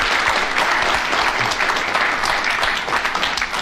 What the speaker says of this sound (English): Yes, ladies and gentlemen, a round of applause for Derek Nimmo.